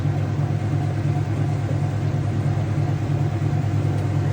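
Whirlpool Ultimate Care II top-loading washing machine spinning at high speed on its heavy cycle, a steady, loud droning hum with a strong low tone that holds even throughout, no voices.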